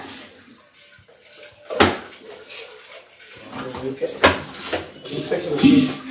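Two people wash dishes in a busy kitchen, with clinking pots, rattling cutlery and splashing water, loud and close under steady conversation.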